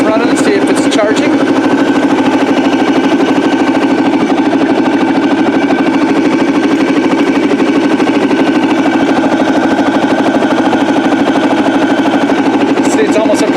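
A vehicle engine idles steadily during a charging-system check, a continuous even drone holding at constant loudness throughout, close to the microphone with no speech over it.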